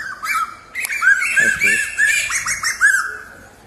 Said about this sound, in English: You heard that little cheep it was making before?